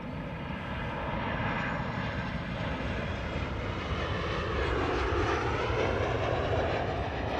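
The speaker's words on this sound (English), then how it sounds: "That's Emirates flight 145 going downwind now for 36 right." An Emirates passenger jet flies downwind past Amsterdam Schiphol Airport, giving a continuous broad engine roar that holds steady throughout at moderate distance.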